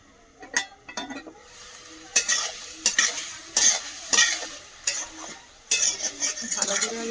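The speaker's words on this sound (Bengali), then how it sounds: "ভালো করে আগে একটু কষিয়ে নিই" Home-grown vegetables being sautéed in a pan, with repeated scraping stir strokes and clinks over a soft sizzle, close and loud in uneven bursts.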